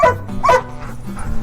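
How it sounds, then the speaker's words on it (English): A dog barks and yips near a Club Car golf cart, several short sharp barks and whimpers close by in a quiet outdoor setting. "What you barking at? It's just a golf cart."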